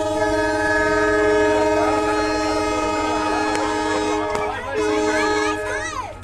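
The Pamban Express sounds a long, loud horn as it departs Paramakudi railway station, with rumbling wheels and clattering carriages beneath and a brief voice near the end.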